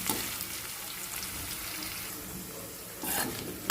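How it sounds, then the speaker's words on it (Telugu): Sabudana khichdi is stirred and roasted in a pan without added water, a soft continuous sizzle with scraping stirs, swelling briefly near the end, under low kitchen noise. "మనం ఇలా ఫ్రై చేసినట్టు ఊరికే కలుపుతూ ఉండాలన్నమాట"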